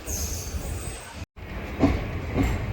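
Inside the Venkatadri Express as it travels, a steady rumbling roar of the moving train with a brief dropout and faint wheel clatter, heard close from within the carriage.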